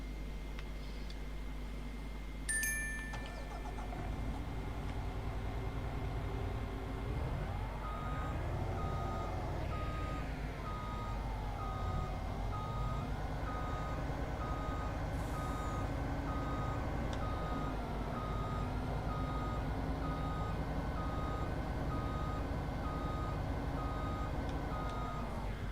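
Reversing beeps from a truck in the farming game Farming Simulator 25, a steady repeating alarm tone sounding over a continuous low engine drone that rises and dips in pitch as the vehicle moves.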